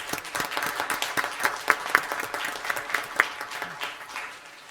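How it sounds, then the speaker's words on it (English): Seniors honored for community service receive applause at a school district governing board meeting, a few seconds of steady clapping with some sharper individual claps, fading out at the end. "So let's give those seniors a round of applause."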